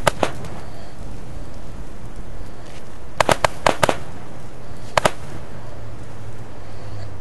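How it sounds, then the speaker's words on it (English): Corn kernels set on fire in the game Little Inferno pop and burst in several sharp cracks, a single snap near the start and then quick clusters in the middle, over a low steady hum. "some of the corn popped, some of it blew apart"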